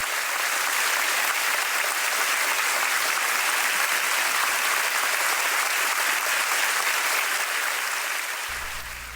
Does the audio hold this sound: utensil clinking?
no